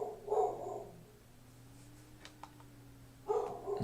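A pet dog barks indoors, two bursts a few seconds apart, somewhat distant and moderately loud over a steady low room hum.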